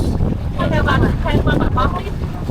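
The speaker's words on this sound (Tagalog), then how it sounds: "lakas ng hangin eh." Strong wind on Boracay roars steadily against the microphone, a constant low rumble, with voices faintly audible through it.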